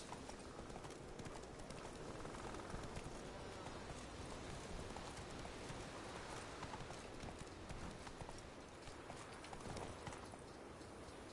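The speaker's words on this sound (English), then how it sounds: "Run, Roach" A horse gallops in a PS4 video game, its hoofbeats a steady, rapid clip-clop over a constant wash of rain, fairly faint and even throughout.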